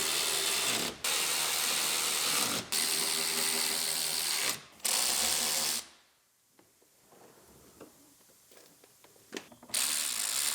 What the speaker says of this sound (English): Now bolt in the wheel liner on the passenger side.